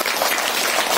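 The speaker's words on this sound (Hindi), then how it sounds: "तालियां बजाकर स्वागत करें।" Steady, dense applause from an audience welcoming a guest at a community mask and sanitizer distribution event in Hamirpur, continuous and fairly close throughout.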